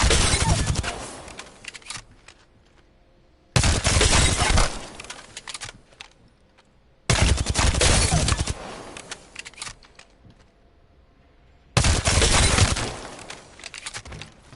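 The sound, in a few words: gunfire while controlling recoil in Apex Legends video game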